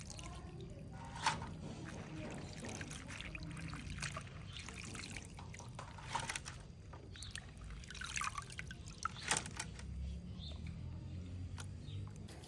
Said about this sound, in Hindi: पालक को हम यहाँ पर 2-3 पानी से अच्छे से धो लेंगे